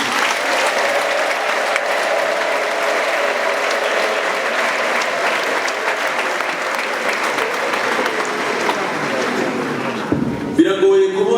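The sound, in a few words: church audience applause and ululation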